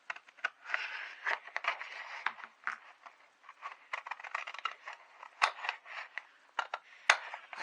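Scissors snipping through paper while making junk journal tags, a close, quiet run of quick irregular cuts and rustles with sharper snaps scattered throughout, no talking.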